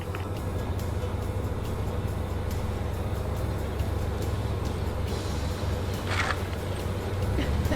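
An overland vehicle pulls out after being stuck off-road, its engine droning in a steady, loud low hum with the rising effort of throttle, while occasional sharp knocks and scrapes come through.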